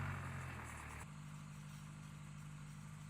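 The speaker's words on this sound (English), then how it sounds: "He's on his smaller, older tractor." A small, older farm tractor engine runs with a steady low drone, its tone shifting slightly after a second, continuous and fairly faint throughout.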